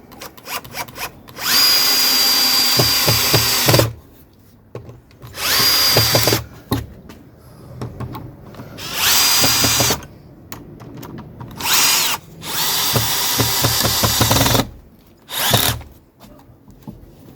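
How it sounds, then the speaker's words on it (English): Power drill driving screws to fix a wooden bee hotel to a wall, five loud whining bursts of a few seconds each, separated by short silences, close and without talk. "just about to finish screwing this to the wall"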